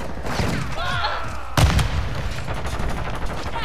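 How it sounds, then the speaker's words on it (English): Shotgun blasts in Call of Duty Modern Warfare II, with a sharp, loud boom partway through over a steady background of game noise and distant gunfire. "we're going back to the shotgun"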